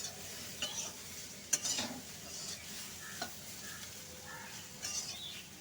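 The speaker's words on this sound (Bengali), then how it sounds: "সমস্ত গুঁড়ো মশলাগুলোকে দিয়ে দিয়েছি, একটু ভালো করে কিন্তু কষিয়ে নেব।" Ground spices being sautéed in a pan for a crab curry with pumpkin and Malabar spinach. Soft sizzling runs under a few scraping stirs and light clinks of a spoon, quiet and close with no talking.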